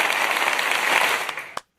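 Canned applause sound effect played on a podcast with a UFC fighter guest, a short burst of dense clapping that ends abruptly after about a second and a half.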